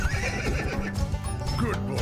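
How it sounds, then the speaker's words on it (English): A horse neighs and whinnies with clip-clopping hooves, played as a jingle on a local radio morning show's round-up, filling the clip loudly over a dense background. "Without the horse."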